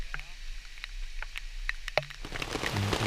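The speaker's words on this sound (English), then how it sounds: "It's starting to rain on us." Torrential rain pours down on soaked hikers several days into a long backpacking trip, a steady broadband hiss of drops with scattered sharper splats and taps, close by, under occasional talk.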